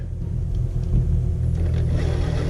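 A low motor rumble runs steadily throughout, the electric motor of an Axial SCX10 II radio-controlled truck whirring and straining close by with slight surges.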